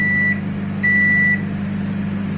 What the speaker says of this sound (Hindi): ये अब देखो बीप आया इसमें।